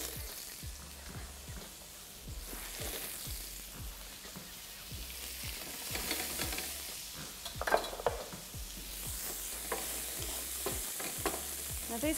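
Onions frying in oil in a pan for chicken paella, a soft continuous sizzle with repeated rhythmic stirring taps and occasional clinks of utensil on metal, no voices.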